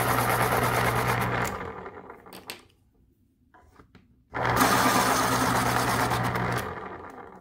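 Jarlink electric pencil sharpener grinding an Arteza colored pencil: two loud, close motorized whirring bursts separated by a brief quiet pause with small clicks and handling noises.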